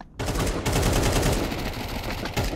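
Rapid automatic rifle fire in the Counter-Strike 2 video game, a loud dense burst of shots lasting a couple of seconds.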